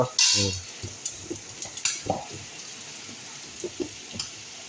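Vegetables for Filipino ginisang gulay are being stir-fried in a pan. A soft sizzle runs steadily underneath, broken by a sharp initial clatter and a series of light utensil clinks and scrapes as they are tossed.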